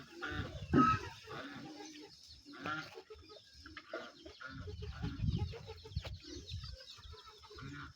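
Chickens clucking close by in a rural farmyard in the morning, irregular bursts of clucks and calls with a louder squawk near the start, other livestock murmurs around, no clear talk.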